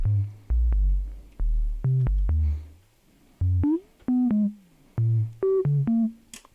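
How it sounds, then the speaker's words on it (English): Sine wave fed through a Buchla Tiptop 292T quad lowpass gate, sounding as a series of short plucked, bass-heavy tones that open and decay quickly, played in a loose rhythm with some higher pitched blips, no voices. "Maybe let's get that sine wave going."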